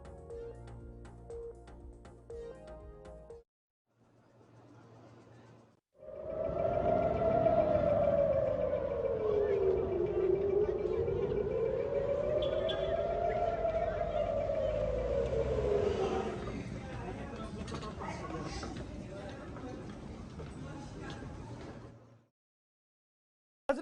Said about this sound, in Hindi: सायरन का जो आवाज बजा था थोड़ा सा वो भी आपको दिखा दें